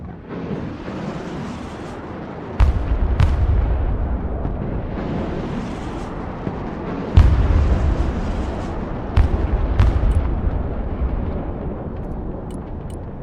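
Cruise missile strikes explode in the video game Broken Arrow, deep booming blasts landing at several points over a continuous rumbling battle din, loud and heavy.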